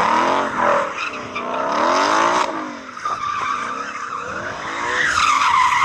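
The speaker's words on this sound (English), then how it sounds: "we've got to warm up our tyres" A Ford Mustang Shelby GT500 spins its tyres to warm them before a drag race, with loud, continuous tyre squeal rising and falling over engine roar across several seconds, no talk.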